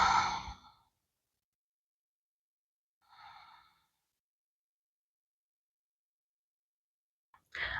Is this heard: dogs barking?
no